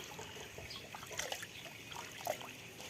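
Water trickles out in a faint, steady dribble with a few brighter splashes, quiet and alone with no voices.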